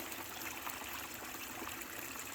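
Water running steadily through a Gold Cube gold concentrator while working a bucket of material, a constant soft trickling and streaming wash, fairly faint and continuous with no voices.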